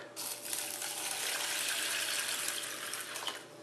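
Water pours steadily over mixed lentils in a container with a constant splashing gush, close up, with no one speaking.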